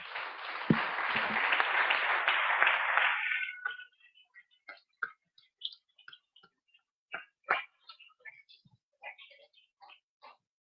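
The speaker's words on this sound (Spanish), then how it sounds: "Dale un aplauso por eso." A church congregation bursts into applause that fills the first few seconds, then quickly dies away into scattered, isolated claps and small sounds.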